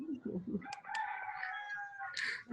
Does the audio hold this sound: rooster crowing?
yes